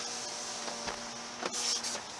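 The automatic driver's power window of a 2016 Toyota RAV4 Limited Hybrid runs with a steady, close electric motor whine for a couple of seconds, ending in a slightly louder stretch.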